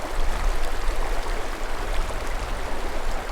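A small fishing creek rushes and burbles steadily nearby, a broad, even hiss of flowing water with no breaks or voices.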